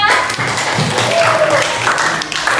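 Classroom applause for a student group after their presentation, a steady wash of many hands clapping close by for a few seconds with faint voices mixed in.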